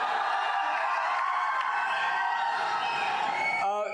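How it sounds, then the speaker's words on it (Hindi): A large student audience at Lovely Professional University claps and cheers for Khan Sir, a dense, loud, continuous roar of applause and shouts filling the hall, cut off abruptly near the end. "चलिए खान सर के लिए एक बार जोरदार ताली बजा दीजिए"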